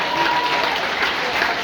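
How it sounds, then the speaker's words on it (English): An audience of about 300 people at a stand-up comedy show claps for customer service workers, a steady, loud wash of applause that holds at an even level throughout. "Can we clap for customer service workers?"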